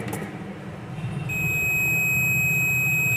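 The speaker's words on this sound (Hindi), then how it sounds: "देखिए इसके साथ रीडिंग भी आ रही है और बीप भी आ रही है" A multimeter on continuity test across a coded resistor gives a sustained high electronic beep that starts partway in and holds steadily to the end, loud and alone.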